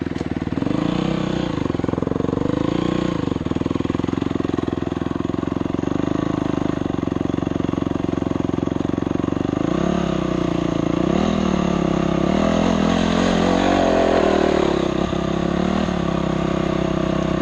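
A dirt bike engine revving loudly and continuously as the rider climbs a slope, the pitch rising and falling with throttle changes, close and dominant throughout.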